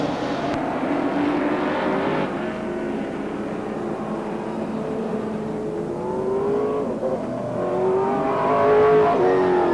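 Race cars roar around a speedway track through turns three and four, a dense, continuous engine drone with rising and falling pitches as the field passes, heard from a distance and steady throughout.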